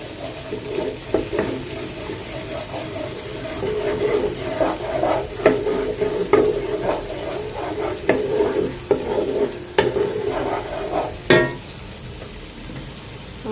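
Ginger-garlic paste frying with chillies in spiced oil while being stirred, giving a steady close sizzle broken by repeated scraping stirs, with no talk over it.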